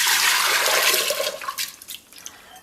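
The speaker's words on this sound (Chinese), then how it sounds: "加入没过红豆的清水。" Water pours steadily from a tap into a pressure cooker over red beans, a continuous rushing splash that thins out and trickles toward the end.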